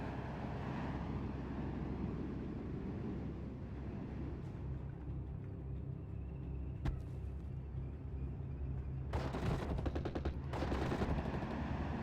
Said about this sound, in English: Perhaps just put the MG42 here, just to ward away the flank. This is able to outrange pretty much any rifle fire.